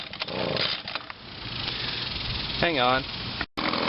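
An Echo PB-2100 two-stroke leaf blower engine, its carburetor just adjusted, runs at a buzzing steady pace, briefly revving higher before a short dropout. A person speaks a few words over it.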